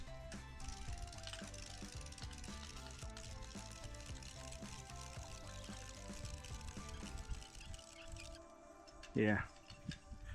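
A chain tackle clicks and ratchets repeatedly while tightening a rope during felling of a large tree near a house, a steady metallic ticking close by, ending with a brief louder scrape.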